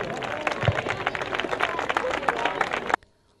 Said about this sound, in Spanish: un aplauso para ellos, el equipo de defensa personal de la Comandancia de la Guardia Civil de Ciudad Real